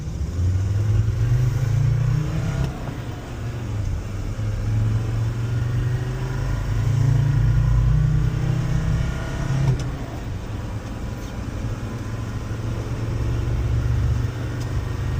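A 1993 Mercedes 290GD diesel G-Wagon accelerating through the gears, its loud engine drone rising in pitch and then dropping at each shift, heard up close from the cabin with no talking.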